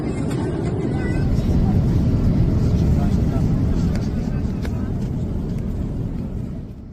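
Loud, dense roar of an Air Europa airliner cabin during severe turbulence on a Madrid to Uruguay flight, a broadband rumble that swells and holds steady before easing off slightly at the end.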